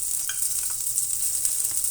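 Cumin seeds added to hot oil with mustard seeds for tempering, a continuous close sizzle with scattered small pops over a low stirring rumble, no voices.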